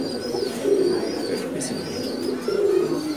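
A breeding loft of large pigeons gives off repeated throaty coos that rise in two louder bursts, while faint high chirping threads through behind them.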